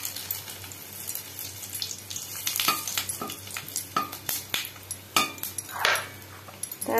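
Whole spices, bay leaf, cinnamon and cardamom, hitting hot oil in a pan, a close steady sizzle with a burst of crackling and scattered clinks of stirring over several seconds, no talk.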